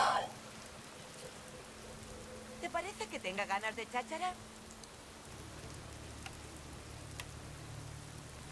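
Steady rain falls in Fallout 4, a soft constant hiss that runs beneath a short burst of speech and carries on alone afterward with a few faint ticks.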